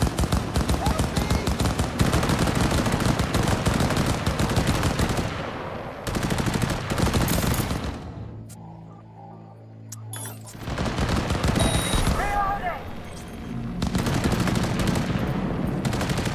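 Long stretches of rapid automatic gunfire rattle as Maelstrom gang members shoot it out in Cyberpunk 2077, dropping to a brief lull midway before the volleys resume loud and continuous.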